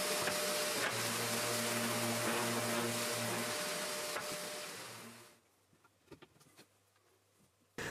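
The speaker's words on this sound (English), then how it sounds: "The veneer on this plywood is very thin, so I'm using a P180 abrasive to very gently take off any burrs around the routing." Thin plywood veneer is sanded with P180 abrasive to remove burrs along routed edges. A steady, loud whirring rasp with a low hum runs for about five seconds, then cuts off into near quiet with a few light knocks.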